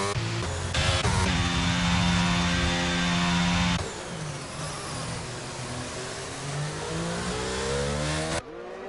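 A race car in a sim racing game at Austria's circuit revs hard as it rejoins the track, a loud sustained engine whine that shifts pitch, drops off, then climbs steadily again before cutting.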